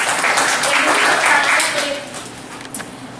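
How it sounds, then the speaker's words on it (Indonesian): An audience at a public discussion event in Surabaya claps in a full burst that swells and then thins out, leaving scattered claps and faint murmur at the end. "Boleh tepuk tangannya dulu untuk kita semuanya."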